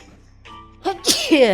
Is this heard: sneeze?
yes